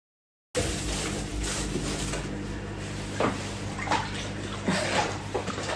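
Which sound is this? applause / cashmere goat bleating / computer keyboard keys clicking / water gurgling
water gurgling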